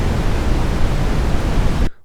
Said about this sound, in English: Next is red noise.